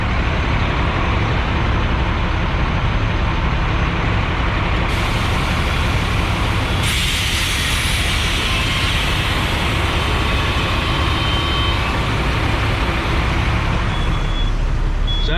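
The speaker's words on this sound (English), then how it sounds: "when the lift axle comes up and the drop axle goes down, or when all the airbags drain" Air bags draining on a flatbed straight truck as the lift axle rises and the drop axle lowers, a loud continuous hissing rush with shifts in tone, close under a steady engine rumble.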